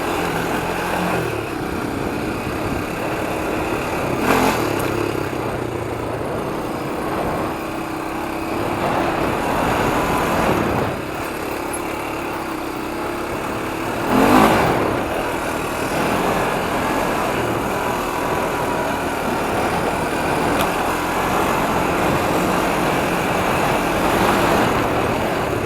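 A 1993 Honda 300EX quad's small engine drones steadily while riding, its revs swelling at intervals with a few louder surges, heard alone without talk.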